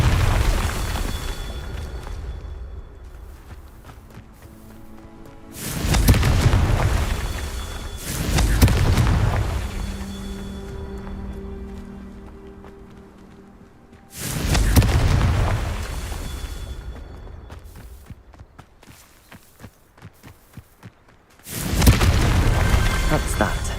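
Confringo spell blasts in the Hogwarts Legacy video game, several loud booming explosions with long rumbling tails, spaced a few seconds apart amid quieter in-game ambience.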